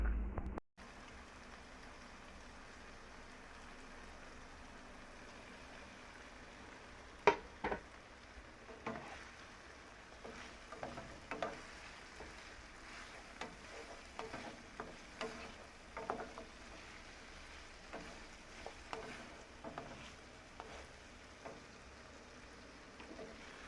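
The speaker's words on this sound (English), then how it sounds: "after I'm done stirring the okra with the saltfish" Okra and saltfish are stirred in a pan for a Jamaican breakfast. A steady frying sizzle runs throughout, broken by repeated soft scraping strokes of the spoon.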